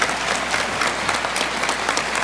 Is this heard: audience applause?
yes